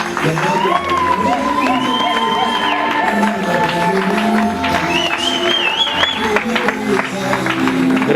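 Wedding guests cheering and applauding as the couple is welcomed, a dense crowd of claps, whoops and shouts with ululating cries rising above, loud and continuous throughout.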